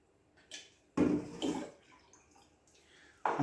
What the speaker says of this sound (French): Donc on rajoute la même quantité d'eau.